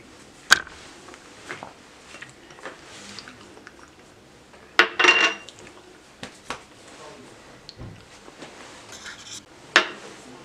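Cornflour and plain flour being stirred together in a kitchen bowl, with soft scraping and clinking of a spoon against the bowl in irregular bursts and one louder rattle midway.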